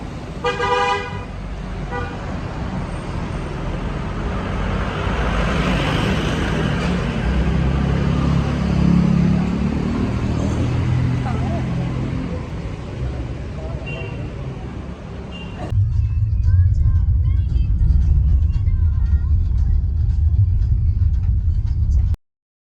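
A car pulls up on a Darjeeling street amid traffic and short horn toots, then a steady, close engine rumble of the moving car takes over for the rest.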